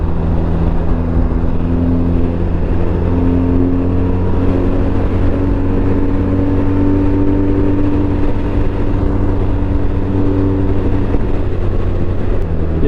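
A BMW R 1250 RT motorcycle cruises down a highway in dynamic riding mode, its engine droning steadily under constant rushing wind, loud and unbroken, with no talking.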